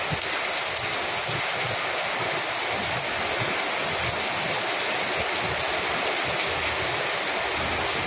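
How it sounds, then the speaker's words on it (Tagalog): Steady, continuous rain falls in typhoon weather during La Niña. It makes an unbroken, dense hiss that holds even throughout, with no pauses and no voices. "Kasi kanina pa tong ulan na to eh."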